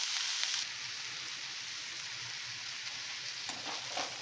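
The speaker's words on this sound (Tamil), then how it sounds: "இப்போ 2 நிமிஷம் வதங்கட்டும்." Broad beans sauté in coconut oil in a pan, giving a steady, even frying sizzle that stays close and continuous with a brief stir near the start and a slight rise toward the end. No voices.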